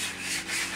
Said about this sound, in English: We are now sanding back the girdery things